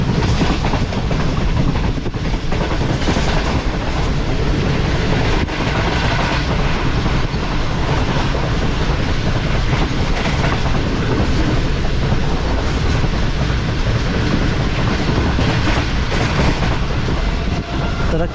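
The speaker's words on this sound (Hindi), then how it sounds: "और अब गंबर के करीब पहुंच रही है ट्रेन" The Shalimar Express passenger train pulls into Gambar station, a loud, dense, continuous rumble and rattle of carriages with steady clickety-clack from the wheels, recorded from on board with no voices.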